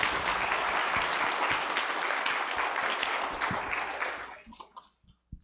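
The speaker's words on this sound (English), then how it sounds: "Let's give them another round of applause." A church congregation at a worship service applauds in a dense, steady burst that holds for about four seconds and then dies away to near silence, heard fairly far off.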